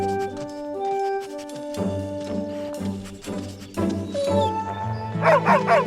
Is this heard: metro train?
no